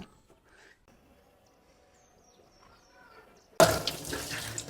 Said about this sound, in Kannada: ತಪ್ಪಿಗಾಗಿ ಸಿಂಕ್ ಕೂಡ ತೊಳ್ಕೊಡ್ಬೇಕು ಇವ್ರಿಗೆ ಈಗ ತೊಳೆಬೇಕು